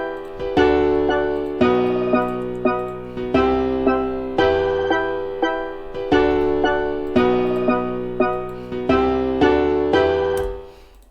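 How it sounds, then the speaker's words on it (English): Piano melody played through the FL Keys plugin in FL Studio, rhythmic repeating chords and notes struck in a steady groove, each decaying before the next, clear and close with no voices. "And so with the piano, they're going to sound like this."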